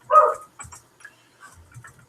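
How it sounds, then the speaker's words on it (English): A female dog lets out a single sharp bark at close range, followed by faint scattered ticks and soft indoor noises. "There's my dog again."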